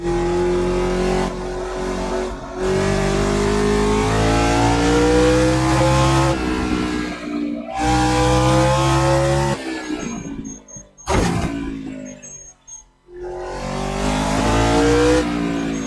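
Race car on wet tires in a racing video game, its engine loud and close, revving and rising through the gears with brief cuts between shifts and a sharp tire squeal near the end.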